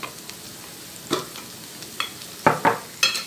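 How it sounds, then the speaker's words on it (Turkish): Onions sautéing in a pan as pepper and tomato paste go in, a quiet steady sizzle broken by a few sharper scraping stirs near the end, with no talking. "Kavrulan soğanlarımın içerisine şimdi birazcık biber, birazcık domates salçası ekleyeceğim"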